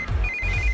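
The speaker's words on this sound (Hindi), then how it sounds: "इस वक्त दीदी का फोन।" Short burst of a mobile phone ringtone for a call from a sister, a thin electronic tone sounding over low background noise in under a second.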